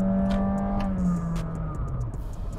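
A Honda City Hatchback RS accelerates at highway speed, its engine note climbing loud and close, with wind and road roar building beneath and no talking.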